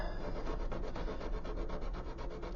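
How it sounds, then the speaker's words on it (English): Steady rhythmic scraping of the rough side of a sanding stick on a 1/200 scale model ship superstructure, back-and-forth strokes close up and continuous, with no talking. "using the rougher side of the sanding stick"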